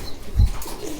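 Pigeons in a bird keeper's collection in Madurai coo once, a single low soft throaty call near the middle of a short stretch, fairly close against a quiet background.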